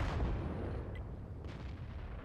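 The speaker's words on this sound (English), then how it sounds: "Now he's aiming for the top bar on the tank and is able to penetrate it." A Waffentrager Auf E-100 tank destroyer gun fires in the game World of Tanks, a loud low boom that rolls into a sustained rumbling tail of distant battle noise.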